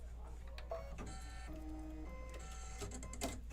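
A Kimberbell embroidery machine stitching an autumn design: a steady mechanical whir and rapid needle clatter, loud and close, with no talk.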